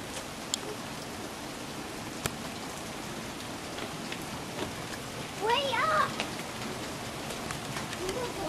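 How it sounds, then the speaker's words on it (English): Steady rain patters and hisses on surfaces outdoors, a faint, even wash with a few louder drops and a brief burst of other noise midway. "It's a pouring rain,"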